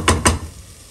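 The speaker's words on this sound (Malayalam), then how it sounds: "ഗൗരി കുരുമുളക് ഇട്ടിട്ട് നല്ല മിക്സ് ചെയ്യുക ചിക്കനിനെ" Two quick scraping clatters of a utensil against a pan come as chicken with black pepper is stirred for a Kerala-style chicken curry, followed by a quiet, low background.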